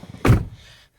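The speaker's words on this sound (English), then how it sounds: "And when I close the door" A single solid thunk of a 2009 Chevrolet Captiva door shutting nearby, short and muffled, then a brief fading rustle.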